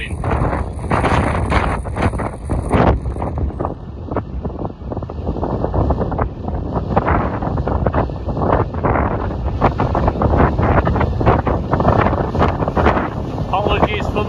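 Heavy wind buffets the microphone on a farm in continuous rough gusts and low rumbles, with a voice faintly audible beneath the blustering roar.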